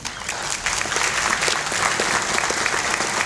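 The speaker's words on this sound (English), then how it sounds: "we'll give you a round of applause as we get everybody introduced" An audience at an athletic hall of fame induction banquet claps steadily, a dense burst of applause that stays loud and even throughout, with no voices over it.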